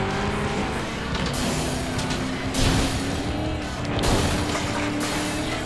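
A car in the racing game Flat Out 2 roars along with a loud engine drone and hits things in two heavy crashes with a burst of breaking glass.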